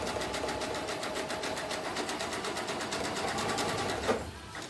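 A sewing machine stitches around a fabric coaster made from clothesline, its rapid needle chatter running steadily and close before easing off near the end.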